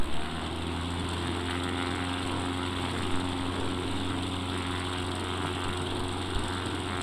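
Small propeller airplane engine at full power, a steady loud drone heard from inside the cabin, unbroken for several seconds.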